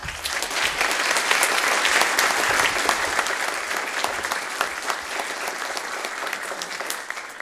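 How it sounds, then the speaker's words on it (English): Sustained applause from a keynote audience at an executive-in-residence lecture, many hands clapping in a dense, even wash that stays strong for several seconds with no speech over it. "And let's all give Scott a huge round of applause"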